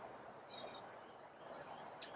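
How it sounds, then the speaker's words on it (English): Birds chirping outdoors, two or three brief, high tweets spaced about a second apart over quiet, faint background hiss. "Hear the birds chirping."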